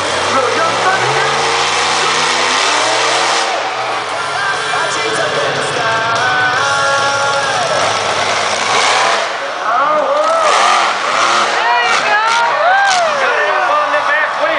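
A monster truck engine at a freestyle event in Perris, California roars and revs hard, pitch climbing and falling through long sustained bursts, loud and close amid crowd noise and an announcer talking over it.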